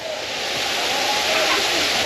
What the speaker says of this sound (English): Alright guys, made it to the waterfall.